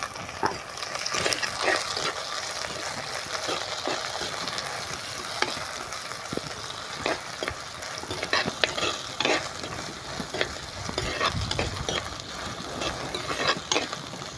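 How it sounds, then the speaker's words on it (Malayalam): Onion, green chili, ginger, garlic and curry leaves sauté in a pan for trevally fish mulakittathu. A continuous close sizzle runs throughout, broken by repeated spatula stirs and scrapes, with no talking. "അരിഞ്ഞു വെച്ചിരിക്കുന്ന സവാള പച്ചമുളക് ഇഞ്ചി വേപ്പിലൊക്കെ ഇട്ട് കൊടുക്കാം വെളുത്തുള്ളി ഇതൊന്ന് ഇട്ട് നമുക്കൊന്ന് വഴറ്റിയെടുക്കാം"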